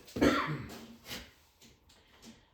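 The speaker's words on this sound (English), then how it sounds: "it makes me cough every time I cut it" One person coughs sharply, then gives a few smaller coughs and throat-clearing sounds close to the microphone.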